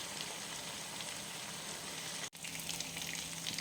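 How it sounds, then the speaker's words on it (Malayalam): Karimeen, pearl spot fish, sizzles and fries in oil in a pan, a steady dense crackling hiss that runs throughout at close range, with one brief dropout partway through. "നമ്മുടെ മീൻ ആവശ്യത്തിന് മൂത്തിട്ടുണ്ട്."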